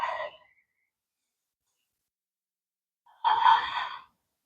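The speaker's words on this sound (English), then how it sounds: "Breathing." Breathing during a yoga forearm plank: one short breath at the very start, a long pause of silence, then a longer, fuller exhale close to the microphone.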